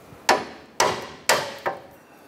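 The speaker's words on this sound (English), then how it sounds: "let's go ahead and pop our tie rod end out" Hammer knocking an outer tie rod end out of the steering knuckle on a 2008-2012 Honda Accord: four sharp, close metal strikes spaced about half a second apart, the last one lighter, with no voices.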